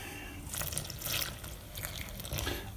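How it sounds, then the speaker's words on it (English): Water poured into a bowl while making a sourdough starter from scratch, heard as close, uneven splashing and trickling in several short surges, with no voices. "And I'll add some water."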